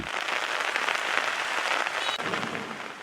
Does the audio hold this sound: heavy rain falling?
yes